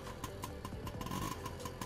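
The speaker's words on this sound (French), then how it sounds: "Donc ça démarre vraiment sans problème" A new Motobécane 51V moped runs its small two-stroke engine at a steady idle, a buzzing putter close by with regular pulsing beats and no voices.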